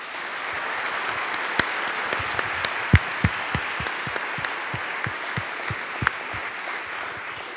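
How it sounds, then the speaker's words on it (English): Conference audience at the CHES 2018 closing session applauding student helpers, a steady moderate wash of clapping with a few sharper individual claps standing out near the microphone. "So we would like to ask you to give a round warm of applause for them."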